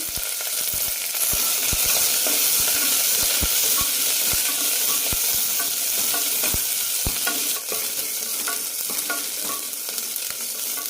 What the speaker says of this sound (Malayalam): മൂന്ന് വെളുത്തുള്ളി എല്ലി ചെറുതായി അരിഞ്ഞത് ചെറിയൊരു കഷ്ണം ഇഞ്ചി നന്നായി വഴറ്റാം